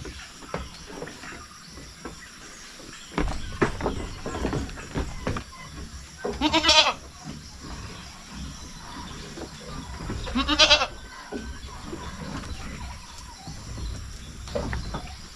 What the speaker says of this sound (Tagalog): Marami na sa ating mga kambing ngayon